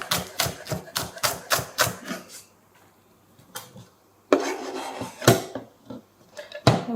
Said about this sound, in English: And now we'll slice some spring onion for the slaw.